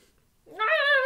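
A single cat meows once, close and fairly loud, rising after a brief quiet start and ending abruptly.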